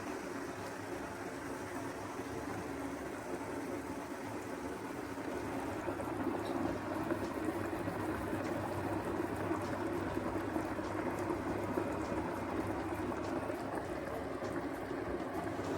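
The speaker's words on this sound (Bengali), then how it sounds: "নিয়ে এগুলোকে এক এক করে এই ফুটন্ত জলের মধ্যে ছেড়ে দেবো।" Besan gatte dumplings simmering in a pot of boiling water, a soft steady bubbling hiss that grows a little louder partway through, with no voices.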